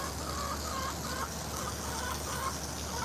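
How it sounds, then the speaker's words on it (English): Chickens clucking on a farm during hot weather, a steady close murmur of hens with a constant background hum underneath and no talking. "The chickens will eat it."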